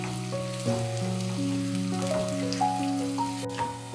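Onions frying in a pan, giving a continuous crackling sizzle close by, steady throughout with a faint musical tone running underneath and no voices.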